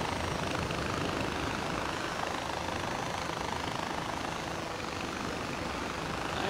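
A helicopter in the video game Far Cry 4 gives off a loud, continuous rotor and engine drone that holds steady throughout, with no other sounds over it.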